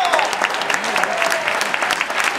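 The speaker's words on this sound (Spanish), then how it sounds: "Ese aplauso otra vez, venga." Steady audience applause at a football player presentation, a dense wash of many hands clapping at once, sustained and fairly loud throughout.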